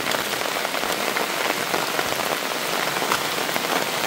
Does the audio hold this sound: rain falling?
yes